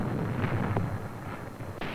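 A WWII mass artillery barrage pounds enemy fortifications, heard as a low, rolling rumble of distant muffled booms with a few sharper thuds, faint and continuous.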